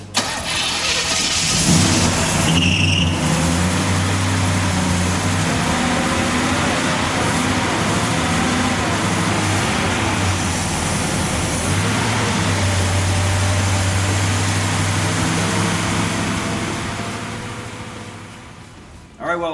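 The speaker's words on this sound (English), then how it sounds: "All right, well, at least we know it runs." A Chevrolet El Camino, sitting for ten years and running on fresh gas, cranks and fires up, then runs with a loud, uneven idle for most of the time before cutting off near the end. Voices are heard briefly.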